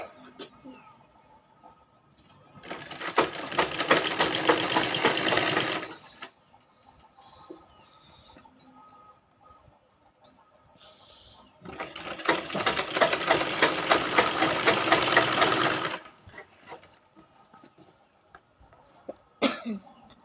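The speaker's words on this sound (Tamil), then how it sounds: "தையல் போடும்போது ஃப்ரண்ட் பேக் போட்டு போடுங்க." A sewing machine stitches blouse fabric in two steady runs of about three and four seconds, with quiet pauses between them.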